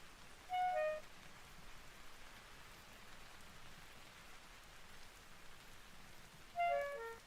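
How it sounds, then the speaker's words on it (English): Steady rain hissing in the video game Vintage Story, an even wash of drops throughout, broken by two short tonal game chimes near the start and end. "as it immediately starts raining"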